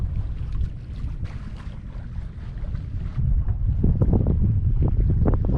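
A sailboat running under sail across Dakar harbour, with steady wind buffeting and water rushing along the hull. The noise swells slightly toward the end, and no voices are heard.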